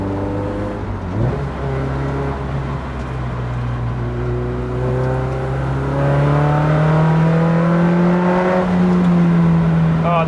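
Toyota MR2 fitted with a swapped-in Camry engine accelerating, its engine note climbing steadily in pitch and growing louder, heard from inside the car with no talking.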